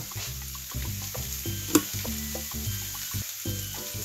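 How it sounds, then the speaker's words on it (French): Potato and pea filling with curry is stirred in a frying pan, giving a steady sizzle under repeated scraping strokes of the spoon, with one sharper clink midway; no one speaks. "Je vais mélanger le tout."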